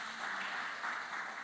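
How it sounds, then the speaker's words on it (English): A conference audience applauds, a soft, even wash of many hands clapping heard from a distance, continuous throughout with no voices over it. "Give him another round of applause."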